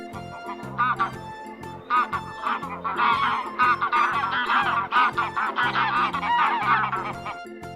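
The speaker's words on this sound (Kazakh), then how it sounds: "Қаз. Қаздың балапаны мамыр." Repeated nasal goose honks over a bouncy musical backing with a steady, pulsing bass line.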